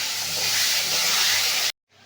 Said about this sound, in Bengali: এবার তেলের মধ্যে সবজিগুলোকে ভালো করে ভেজে নেব।